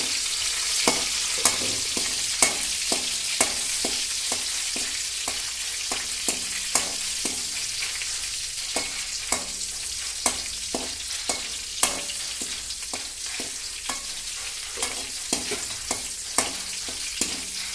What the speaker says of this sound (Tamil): கருகிராமல் நல்லா தொலாவி கொடுக்கணும்.